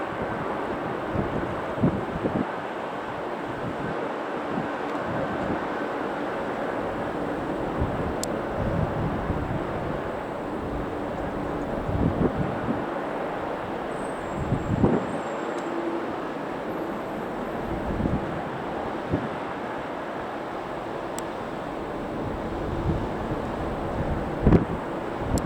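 Strong wind roars at Manchester Airport as a steady, loud broadband rush, with gusts swelling and fading over the whole stretch and no voices.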